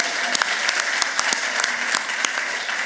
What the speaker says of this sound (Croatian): veliki aplauz za naše goste